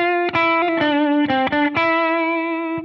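Electric guitar played slowly and deliberately with a whammy bar bending between notes, giving a wavering, twangy spaghetti-western tone with effects; several distinct notes ring out clearly, alone with no talk.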